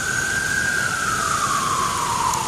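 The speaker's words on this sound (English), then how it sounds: "Siren." An emergency vehicle siren wails loud and steady nearby, one sustained tone slowly falling in pitch over a few seconds, with no speech.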